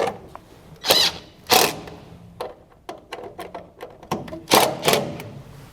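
Screws being tightened down on the cover of an etrailer trailer wiring junction box in an enclosed trailer: a handful of short, sharp clicks and scrapes, close by and irregular, with brief pauses between turns.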